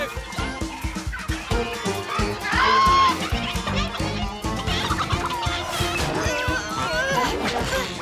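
Cartoon chickens cluck amid a busy, musical soundtrack with cartoonish effects, the bird calls popping up repeatedly over the lively backdrop during a chicken chase.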